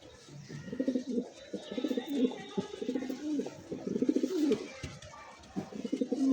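A male pigeon coos close by in a series of low, throaty, rolling bursts repeated in quick succession, with short pauses between phrases.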